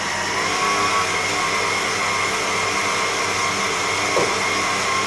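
Electric mixer whisking cookie dough with eggs, a steady close whirring drone running continuously without pause, no talking.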